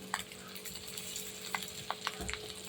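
A spoon stirs egg curry frying in a pan, giving faint scrapes and light clinks over a quiet, steady sizzle in a short stretch without speech.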